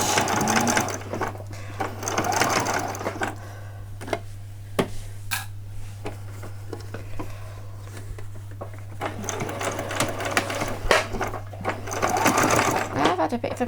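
A sewing machine back-stitches and then runs along the edge of a seam on small doll-sized jeans, its fast steady whirr and ticking needle continuing up close under a low hum, with a voice talking over it at times.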